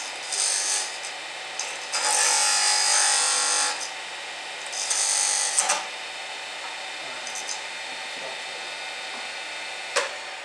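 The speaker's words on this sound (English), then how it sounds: "What you just did is called a catch." A wood lathe turning a piece, with the tool scraping and rasping in uneven bursts and a sharp catch as the tool digs in; a brief knock follows later against a low steady motor hum.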